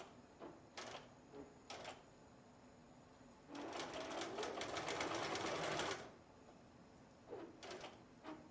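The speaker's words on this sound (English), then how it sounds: "And sew to get it started." An electric sewing machine stitching fabric for a Halloween advent calendar, with short bursts of stitching and then a steady, close whirring run of about two and a half seconds before stopping.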